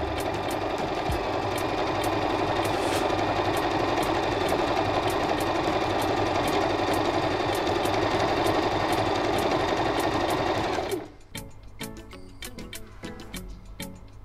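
Singer M3205 sewing machine stitching jersey knit on a straight stitch, a steady rapid needle chatter running loud and even for about eleven seconds before stopping, leaving faint ticks and clicks.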